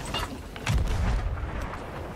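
Ship cannon fire in Sea of Thieves, heard as a deep, muffled boom with a rumbling tail, fairly distant, over faint background ambience.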